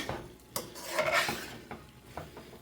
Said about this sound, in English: I'm just gonna mix this sauce in